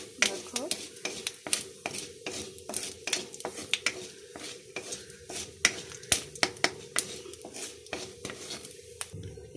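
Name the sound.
chili, panch phoron and mustard seeds frying and stirred in oil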